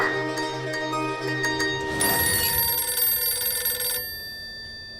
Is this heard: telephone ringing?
yes